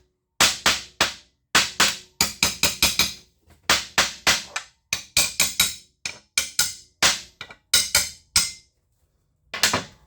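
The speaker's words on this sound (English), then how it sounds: "transfer punch these holes. Take it out, hit them underneath." A hammer striking transfer punches through holes in a workbench top being made into a welding fixture table: sharp, loud metallic blows in quick clusters of two to four, separated by short pauses, with no speech.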